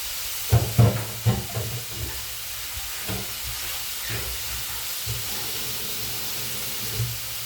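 Squid sizzling with oyster sauce in a pan, soft steady hiss with a few louder pops and clatters early on, close and fairly quiet.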